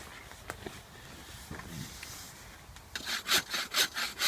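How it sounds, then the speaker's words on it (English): A hand saw cuts through oak and birch firewood at a wet village camp, a few scattered strokes at first, then a close, loud run of rhythmic rasping back-and-forth strokes. "Just sawing up a nice bit of wood."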